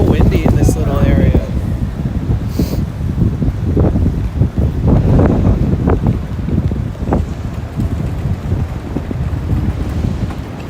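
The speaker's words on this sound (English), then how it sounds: "It's so windy in this little area." Gusty wind buffets the microphone outdoors in a narrow windy passage at a San Francisco Chinatown night market, with a steady rumble and bursts of street noise as people speak nearby.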